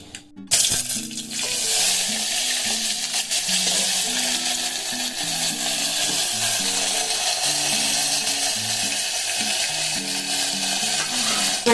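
Cumin and cut potatoes frying in oil in a pan for a vegetarian dish, a continuous bright sizzle running throughout, with a lower rhythmic tonal pattern underneath.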